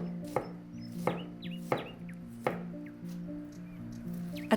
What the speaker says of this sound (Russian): теперь тоненько нарезаем качан капусты